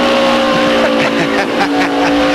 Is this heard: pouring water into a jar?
no